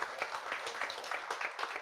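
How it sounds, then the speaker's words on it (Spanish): Audience applause closing a book presentation event, a brief burst of scattered hand clapping, moderately close and fairly soft. "cerramos la actividad con un aplauso para nuestras invitadas"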